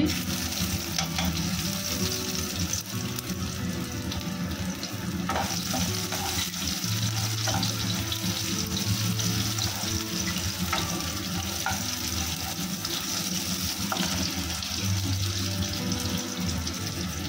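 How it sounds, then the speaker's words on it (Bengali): Crushed garlic frying in a pan for a bean and shrimp-paste dish, a continuous moderate sizzle with scattered crackles and faint low background tones, steady throughout without speech. "একটু ভাজা ভাজা করব।"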